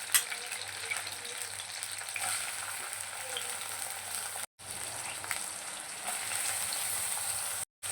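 Chopped onion pieces fry in a hot pan, giving a steady, close sizzling hiss with light stirring, interrupted by two brief cuts to silence.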